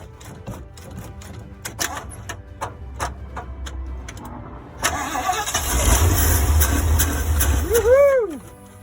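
A 1975 Ford E100 van engine with gas poured into the carburetor cranks several times, then catches and roars into a loud, rough run close by, ending with a rising and falling whine.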